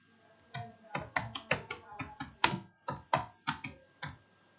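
Typing on a computer keyboard: close, crisp key clicks in an uneven run of about fifteen strokes, clear and alone with no talk.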